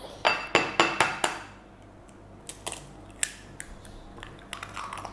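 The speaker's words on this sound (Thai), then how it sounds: "แล้วก็มาตีไข่กัน" A fork or whisk clinks rapidly against a bowl while one egg is beaten for microwave cupcakes, a quick run of sharp taps followed by scattered, slower clinks, with no talking.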